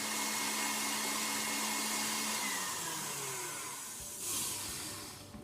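An electric mixer at medium speed whisks double cream in a mixing bowl, a steady whirring drone that gradually changes tone as the cream thickens, with no talking.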